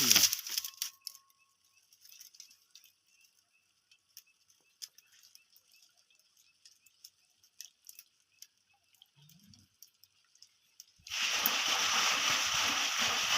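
After a quiet stretch of scattered small clicks and taps, water bursts from a newly installed Jain 7.5 HP solar pump motor and gushes loudly and steadily for the final couple of seconds.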